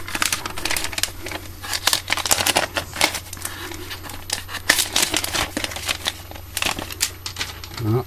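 An iPad bought in New York being unboxed, with close crinkling plastic, rustling and tapping of packaging in irregular bursts over a low steady hum.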